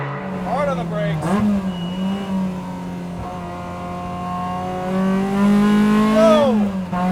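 A Lotus Exige S1 sports car engine drones steadily, dipping and rising in pitch as it brakes hard and picks up again, with a voice talking over it.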